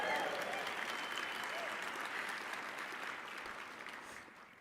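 Large conference audience at a live real-time graphics showcase applauding, a broad wash of many hands clapping with some cheering, loud at first and slowly fading toward the end.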